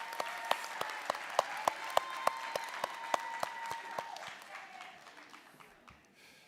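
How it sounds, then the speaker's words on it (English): Audience applause at a nursing graduation ceremony as graduates receive their pins, steady crowd clapping with a few sharp individual claps standing out near the front, tapering off toward the end. "Round of applause for this group, guys, as they get their pins"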